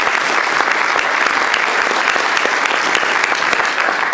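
Dense, loud applause from a large audience at a spring general assembly, a continuous wash of many hands clapping at once, sustained and even throughout.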